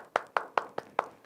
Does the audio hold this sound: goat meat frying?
no